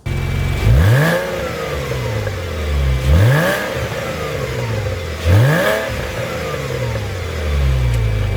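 A Porsche Boxster fitted with an aftermarket Borla exhaust revs in three repeated throttle blips, each a rising growl that falls back to a burbling idle, loud and close with no talking.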